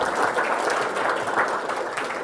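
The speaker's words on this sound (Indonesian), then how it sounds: "Nah tepuk tangan untuk kalian semua." Audience applause from a crowd at an Indonesian talk on Pancasila ideology, a steady dense wash of clapping filling the whole stretch at even loudness with no voices over it.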